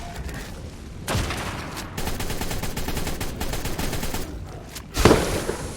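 Sustained assault rifle fire in the game ARK, rapid continuous automatic bursts, loud and close, with a heavier blast near the end.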